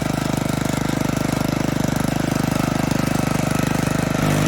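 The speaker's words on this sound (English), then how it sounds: "all the small weeds has been cut down by the rotavator" A rotavator engine runs steadily while tilling a field, mixing manure and fertilizer into the soil and chopping small weeds; a loud, continuous rhythmic chugging throbs close by throughout, easing slightly near the end, with no voices.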